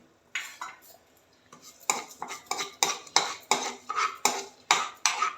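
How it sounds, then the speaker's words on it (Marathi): Fenugreek seeds frying in a spoonful of oil in a small kadhai while a spoon stirs them, heard as close, repeated clinks and scrapes of metal on the pan in an uneven rhythm, with faint sizzle underneath and no talk. "दोन चमचे मेथ्या मी तळून घेते आहे"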